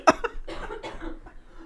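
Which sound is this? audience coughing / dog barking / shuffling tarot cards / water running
audience coughing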